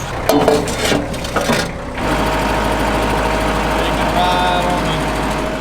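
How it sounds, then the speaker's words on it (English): Big orange Kubota tractor engine running at a steady idle with a low, continuous drone, following a short stretch of clattering and handling noises at the start. "Big orange tractor, Michael. Kubota household."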